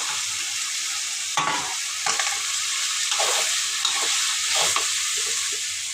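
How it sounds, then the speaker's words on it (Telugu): Pre-boiled broad beans stirred with ginger-garlic paste in a hot pan give a continuous close sizzle, with several brief scraping strokes of the spoon. "ఇదైతే బాగా అల్లం వెల్లుల్లి పేస్ట్ వేసిన కదా బాగా కలుపుకోవాలి చెవలకాయకి పట్టేలాగా"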